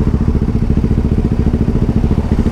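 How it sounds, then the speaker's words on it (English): A motorcycle engine running with a loud, rough, rapidly pulsing exhaust, steady and close, with no voices. "Noisy exhaust on this one."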